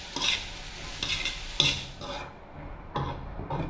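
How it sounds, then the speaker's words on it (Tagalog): Shrimp frying in a pan in a home kitchen: a steady, close oil sizzle broken by bursts of stirring and scraping, with no voices. "Prito na po tayo"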